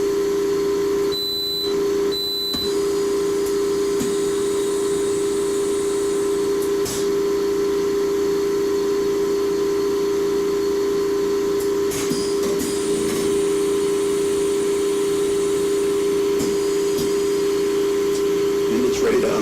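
A wafer mask aligner runs an exposure with a steady mechanical hum and a pair of short beeps early on, continuing evenly with faint clicks.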